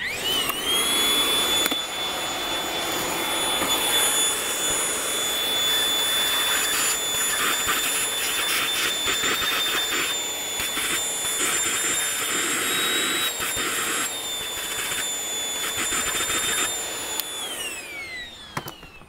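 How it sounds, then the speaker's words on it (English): A vacuum cleaner whines loudly and continuously while sucking debris from the stud threads of a Brembo brake caliper on a Shelby GT350, the pitch wavering with movement and then winding down at the end. "Now we're going to go vacuum it."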